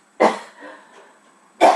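Person coughing in a kitchen while cooking homemade beans and chili, two sharp close coughs separated by a short pause, with faint murmuring between them.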